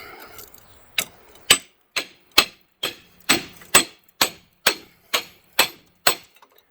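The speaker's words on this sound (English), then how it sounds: "Other times you get the pry bar in here, hit it with a hammer." A hammer strikes a metal pry bar about a dozen times in a steady rhythm while changing brake pads on a Ford Escape, each blow a sharp ringing clank with a brief metallic decay.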